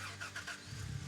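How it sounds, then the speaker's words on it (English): A truck engine in the Gold Rush video game cranks over with a few rhythmic starter pulses, then catches into a low rumbling idle, heard faintly and briefly with no voices. "Let's get back in the truck, start the engine."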